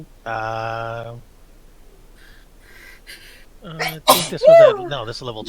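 A person at a tabletop Dungeons and Dragons game sneezes once amid conversation, a sharp burst close to the mic followed by people talking.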